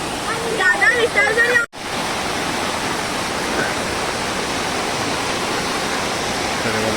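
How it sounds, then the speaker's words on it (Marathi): A river in Konkan swollen into flood by heavy monsoon rain rushes in a loud, steady roar; a voice briefly talks over it at the start before a short dropout, then the churning water continues alone. "जबरदस्त पाऊस पडतोय आणि जबरदस्त पाणी"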